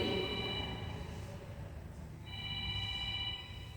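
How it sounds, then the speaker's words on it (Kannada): A mobile phone rings with a repeating electronic ringtone in the middle of a yoga class, steady and fairly near, sounding alone without speech for about four seconds. "ಯಾರ್ದು ಇದು ಫೋನು ಕಟ್ ಮಾಡಿ"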